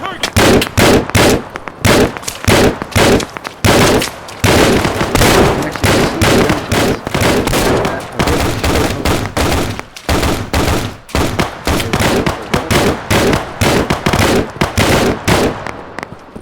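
Rapid, loud rifle fire in the shooter game Operation Harsh Doorstop, dense strings of close gunshots in bursts with brief pauses, nearly continuous over the whole stretch.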